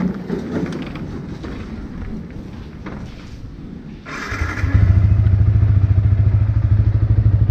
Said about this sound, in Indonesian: Kita panasin motor dulu sebelum kita berangkat.